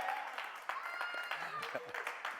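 Audience in a theater at a live comedy show claps and cheers, a dense steady wash of applause with scattered whoops and voices mixed in throughout.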